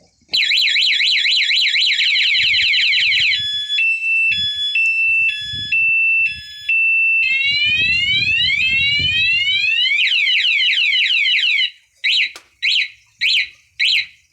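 A loud motorcycle anti-theft alarm cycles through shifting siren patterns, warbles, steady beeps and sweeping chirps, then ends with several short separate bursts; low rumbling underneath.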